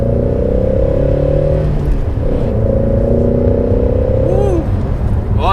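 A Shelby GT350 with its 5.2-liter V8 pulls hard under acceleration, a loud, steady engine drone that climbs in pitch, eases at a shift, then rises again, heard from inside the car.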